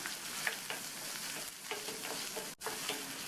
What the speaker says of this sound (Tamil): கூடவே ஒரு மீடியம் சைஸ் வெங்காயத்தை கட் பண்ணி சேர்த்துட்டு இதை லைட்டாக வதக்கி விட்டுக்கணும்